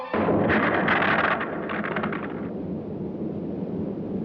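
A monster blows apart in the low-budget horror film The Deadly Spawn, a loud, dense explosive roar with bursts of crackling debris in the first second and a half, then a long rumbling decay with no voices.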